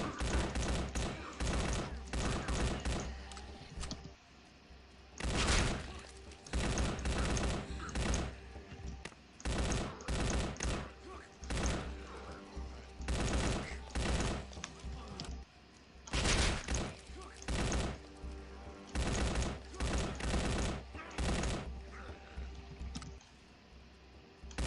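Rapid bursts of gunfire from Left 4 Dead 2 as zombies are shot down, loud clustered volleys and short automatic strings repeating across the whole stretch with brief pauses between them.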